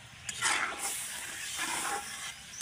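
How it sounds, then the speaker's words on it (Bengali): Broth poured into a hot pan of simmering beef gives a steady hissing, steaming sizzle with slight swells in intensity, close and continuous throughout. "এখন ঝোল দিয়ে দিলাম।"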